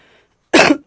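A single close, loud cough from an adult with a cold, following a faint breathy moment, with the start of a second cough at the very end.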